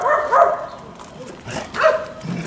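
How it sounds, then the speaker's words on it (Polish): A dog barks sharply a few times close by, with short yips between the barks. "wam pokażę mojego zwariowanego pieska"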